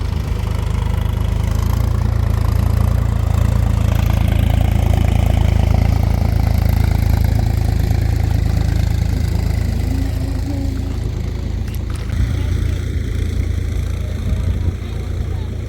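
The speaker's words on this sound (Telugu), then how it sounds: "ఇటైతే నారదయ్య కూడా ట్రాక్టర్ వచ్చేసింది అనమాట" A loud, steady low tractor engine rumble runs throughout at a village rice-transplanting field, idling evenly with a slight knock, and faint voices are mixed in.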